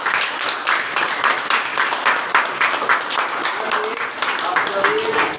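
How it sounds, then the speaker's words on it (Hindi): Schoolchildren at a school reading-skills activity clap together in quick, even rhythmic bursts, loud and close, while an adult speaks over the applause. "ताली बजाओ बच्चों।"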